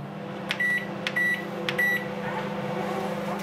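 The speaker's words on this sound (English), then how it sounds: "put it in there and microwave it for 3 minutes." A microwave oven beeps three times as it is set, then hums steadily while heating raw mince. The hum is close and continuous, with no voices.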